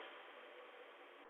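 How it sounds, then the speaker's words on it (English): An apartment heater running gives a steady, faint, airy hiss with no breaks, captured through a Bluetooth earbud microphone recording on a Motorola G5S Plus smartphone. "if you're hearing a hum, that's from the heater that's making heat."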